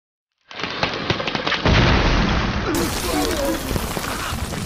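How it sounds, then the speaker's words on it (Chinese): Movie sound effect of an exploding jungle fruit, a sudden loud burst that steps up into a dense, crackling roar and keeps rumbling and sputtering close up to the end. "这种果实在成熟期极易发生爆炸，其威力足以杀死一匹斑马。"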